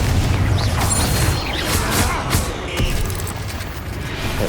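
A Confringo fire spell blasts in Hogwarts Legacy, heard as a dense, loud burst of booming, crackling game effects amid continuous combat noise, with heavy low rumble and scattered sharp cracks.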